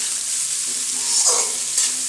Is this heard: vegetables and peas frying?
yes